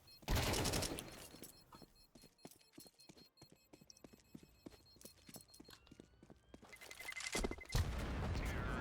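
Shotgun fire in the sci-fi game Entropia Universe, a rapid series of sharp, evenly spaced blasts with fuller bursts at the start and end, fairly quiet overall with no talk.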